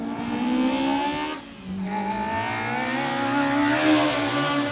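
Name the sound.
Honda car accelerating up hill climb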